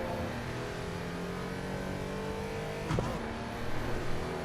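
A steady engine drone from a car in Assetto Corsa EVO, a brief rev spike near the end, loud and continuous throughout with no talking.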